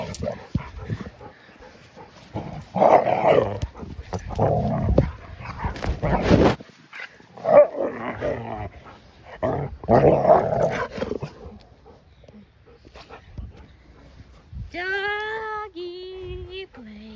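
Dogs growl and snarl in rough, playful bursts, close by, with pauses between, then a few high whimpers and yips near the end.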